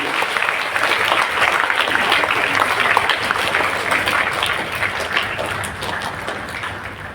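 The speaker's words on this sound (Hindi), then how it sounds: "एक बार जोरदार तालियां सुमन के लिए" Loud, sustained applause from an audience at a mothers' honour ceremony with the Governor as chief guest, dense steady clapping throughout, with a faint murmur of voices underneath.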